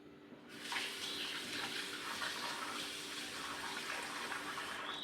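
Rice is washed in water, with a steady rush of running water starting abruptly and continuing close and even, with faint splashing and no talk.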